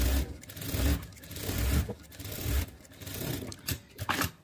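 Sewing machine gathering the cap of a puff sleeve with a short seam allowance, a loud, close, steady whirring stitch run in bursts with brief pauses, heard alone.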